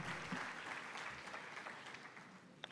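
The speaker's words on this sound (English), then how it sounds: "Can we please give him another round of applause?" Steady audience applause fills a summit hall at an unemployed graduate reskilling and career event, a dense continuous wash of many hands that stays faint and distant throughout and fades slightly near the end.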